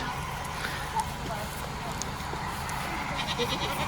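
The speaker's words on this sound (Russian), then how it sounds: "Все облепили опять, овцы, козы." Sheep and goats crowd closely around a person at a wild animal rehabilitation centre, with faint bleats and light hoof clatter over a steady outdoor background while someone talks.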